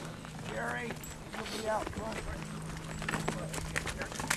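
Horse hooves clip-clop in a steady rhythm on a cattle drive in Arizona, close by and moderately quiet, mixed with rustling and outdoor noise while people talk.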